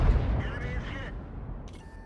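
An artillery piece fires in an online tank battle game, a heavy close boom that decays into a rumbling tail, with brief faint metallic clicks afterward.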